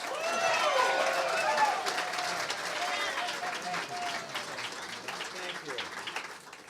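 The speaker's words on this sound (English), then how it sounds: "thank you for almost applauding long enough for me to get to the fucking mic stand" A comedy club audience applauds and cheers as a comedian walks to the stage, loud clapping with whoops and voices at first, then thinning into steadier clapping.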